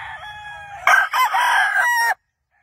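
A pure brass back black gamefowl rooster crows once on a game farm, a loud, close, drawn-out call of about a second and a half that rises sharply and then cuts off into silence, with faint low background noise before it.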